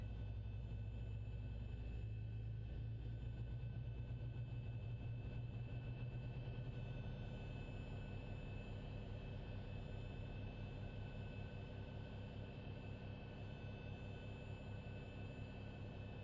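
The right engine of a simulated Zibo 737-800X spools up in X-Plane 11.5, a steady low-pitched rumble and hum with a faint whine above it. It stays continuous and fairly subdued throughout with no talking.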